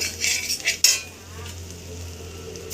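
Spice paste for a paneer curry is stirred and fried in a pan, with metal utensil scrapes and a sharp clink early on over a soft, continuous low sizzle close by.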